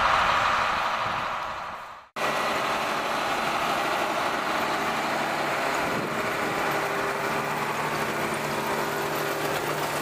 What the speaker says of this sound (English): So let's watch the tractor come by.